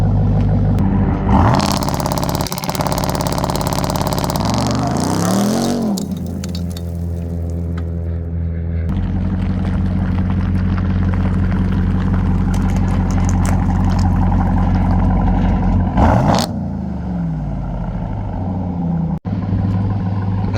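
A 2023 Ram TRX pickup with an AWE exhaust revs hard several times, rising and falling in pitch, with a deep rumbling exhaust between bursts and a steady loud idle throughout.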